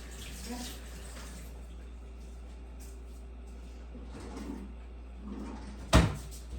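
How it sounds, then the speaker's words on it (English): Hands are washed with soap under running water to get butter off while making homemade biscuits; soft splashing and rubbing with a low hum beneath, and a sharp knock near the end. "Soap to get that butter off."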